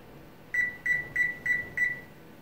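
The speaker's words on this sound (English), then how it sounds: "and then I set my timer." A kitchen timer set while French press coffee steeps gives five short, evenly spaced electronic beeps, clear and close over a quiet room.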